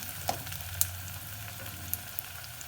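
Kumhrauri sizzles faintly with green chilli in a pan, a soft steady frying hiss with a few scattered light pops and clicks, heard alone without talk.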